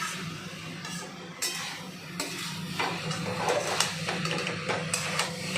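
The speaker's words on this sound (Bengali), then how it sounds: "কুকারটা দিয়ে একটু নাড়িয়ে দিই" A spoon scrapes and knocks inside a pressure cooker pot while homemade baby corn batter with cornflour is stirred, giving irregular close clinks over a low steady hum, with no talking.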